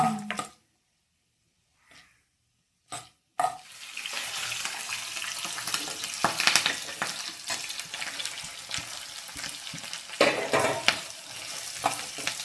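Seeds crackle and sizzle as they hit hot oil for semiya upma. A few short sounds come first, then a steady frying hiss with sharp spattering pops, and no talk.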